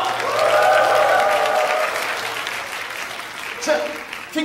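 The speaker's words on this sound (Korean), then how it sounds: "여러분, 참가자 여러분들에게 박수 한번 주세요." Audience at a makeover festival stage show applauds the contestants, a loud burst of clapping that fades away, with a voice speaking over it and brief talk near the end.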